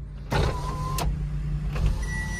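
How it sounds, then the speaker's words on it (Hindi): Front power windows of a Renault Kwid RXT whir as the electric motors run, a steady close mechanical hum starting abruptly with a couple of clunks as the glass stops, inside a quiet car with no talking. "क्विड के टॉप मॉडल में आपको सिर्फ आगे के ही दो पावर विंडोज मिलते हैं, इसमें भी हम आपको वर्किंग करके भी दिखाता हूँ"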